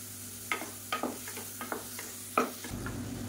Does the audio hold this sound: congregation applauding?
no